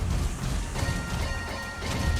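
A heavy, continuous rumble of crashing explosions from mines in Transformers: Devastation, loud and low-pitched with scattered impacts throughout.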